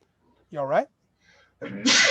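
A person sneezes once, sharp and close, during a tabletop role-playing game session, right after someone briefly asks a question.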